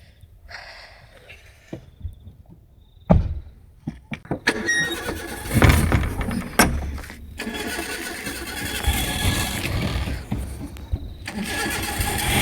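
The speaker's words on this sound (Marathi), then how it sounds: "आता गाडी चालू करून घेऊ" A car engine is cranked and catches, beginning with quiet clicks and short bursts, then settling into a loud, continuous running roar close by, with a few sharp knocks along the way.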